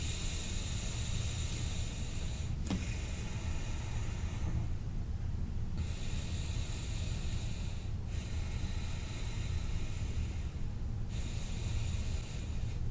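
Slow, deep breaths held in a yoga pose, a long drawn inhale and exhale in airy cycles of a few seconds each, close and soft over a steady low background hum.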